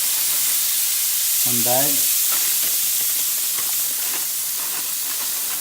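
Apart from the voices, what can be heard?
corn frying in a hot pan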